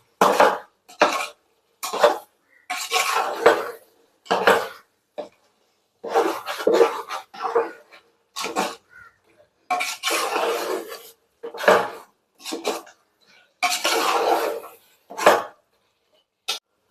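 Pieces of raw chicken, a kilo in all for chicken biryani, go into a pot and are stirred, giving repeated clattering bursts of metal scraping and clinking with short pauses between them, close and fairly loud.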